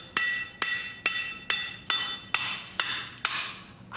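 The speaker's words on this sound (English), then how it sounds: "using what they call a bore, basically an iron bar, usually about 3 feet long. Right. And a heavy hammer." Heavy hammer blows strike an iron bore bar about three feet long, driving it into rock: nine sharp, ringing metallic strikes at a steady, even rhythm, close and loud with no talking.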